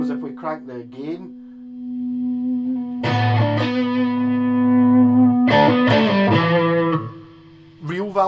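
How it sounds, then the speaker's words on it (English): Electric guitar played through a Victory Sheriff valve amp with the gain cranked, giving sustained, saturated chords that ring out loud and close, with short pauses between strums and reverb tails. "Real valve distortion."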